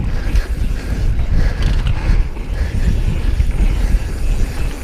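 A mountain bike rattles and clatters over brake bumps on a bumpy cross-country trail in Fruita, Colorado, with rough, continuous drivetrain and frame noise and wind rush throughout.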